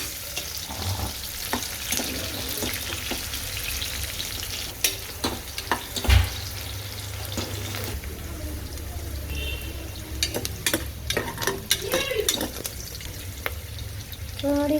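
Onions fry in a pan for a mutton curry, a continuous close sizzle with clattering stirs and scrapes scattered throughout, plus a few brief bumps and background noises.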